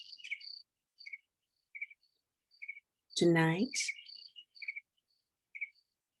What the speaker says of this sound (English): as you listen to these crickets